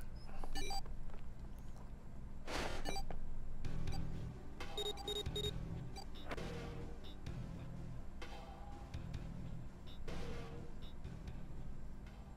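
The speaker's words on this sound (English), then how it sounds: "Beep beep beep beep" In the escape game Zero Escape: 999, an alarm beeps in short repeated tones over a steady low hum and scattered clatter, sounding moderately close.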